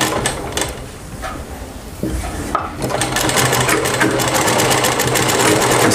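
Sewing machine stitching a side pocket onto a kurti, a close, steady mechanical whirr with a brief pause near two seconds before the needle runs on continuously.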